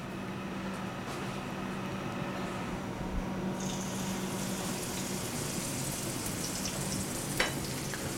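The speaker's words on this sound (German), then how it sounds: "Wir braten das Cannelloni an sich jetzt erstmal in Olivenöl an" Mushroom-wrapped cannelloni of king oyster mushroom fry in olive oil in a pan, a steady close sizzle and crackle of hot oil that runs on without a break and swells slightly partway through.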